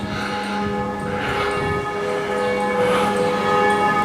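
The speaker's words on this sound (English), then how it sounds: "which is why you hear the church bells cranking about" Church bells ring at seven o'clock in Zurich, sustained tolling tones heard at a distance outdoors amid steady background noise.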